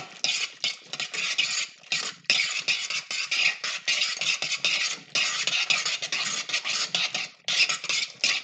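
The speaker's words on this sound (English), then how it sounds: "Now that it's in the pot, you just gotta stir it up." Macaroni being stirred in a cooking pot, a steady run of scraping and clattering strokes that carries on almost without a break, close and fairly loud, with no talking.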